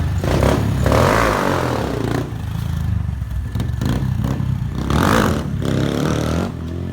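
Honda Grom motorcycle fitted with RaceTech forks on a first test ride, its small engine droning and revving continuously up close with clattering and rattling from the bike throughout.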